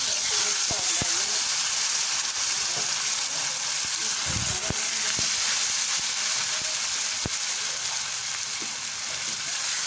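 Green and red chilies sizzling in hot oil with fried garlic while cooking sarson ka saag, a loud steady frying hiss throughout with scattered clicks and a few stirring knocks.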